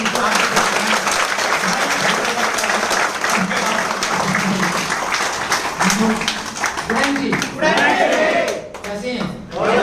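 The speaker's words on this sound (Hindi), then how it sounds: "तो आप लोग की जोरदार ताली" Audience applause at a motivational business gathering, steady dense clapping that runs for about ten seconds with a speaker's voice carrying over it and fading slightly toward the end.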